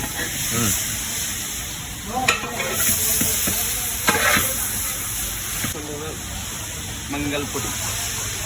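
Onions being mixed and fried in a pan in a hotel kitchen, a continuous sizzle with repeated spatula scrapes and clanks against the pan, while a voice speaks intermittently over the cooking.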